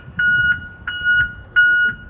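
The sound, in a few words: truck backup alarm beeping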